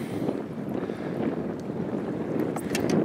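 Wind blowing outdoors on open water from a boat, a continuous low rumbling buffet across the microphone, steady and fairly loud throughout with no talk.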